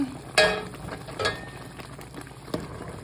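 Pork ribs fry in hot oil, a steady low sizzle broken by a few sharp spatters and clatters close by.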